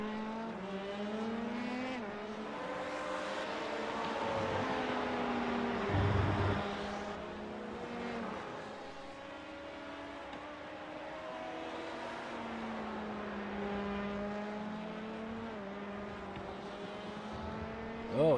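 LMP2 and GTE race cars in iRacing at COTA (Circuit of the Americas) drone steadily with multiple engine notes that rise and fall as cars pass and shift through gears, continuous and moderately loud.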